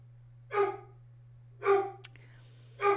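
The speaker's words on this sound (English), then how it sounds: "my dog has to bark a little" A dog at home barks three times, short single woofs spaced about a second apart, moderately close, with a steady low electrical hum underneath.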